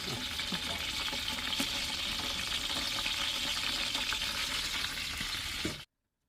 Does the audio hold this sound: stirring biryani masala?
yes